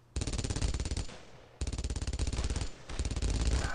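Machine gun fire in the World War II video game Brothers in Arms: Road to Hill 30, loud rapid bursts of shots in three long volleys with short gaps between them.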